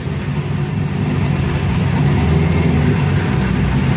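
A car engine runs steadily during a clutch engage test, a loud, continuous low rumble with slight rises in pitch, close up and with no talking.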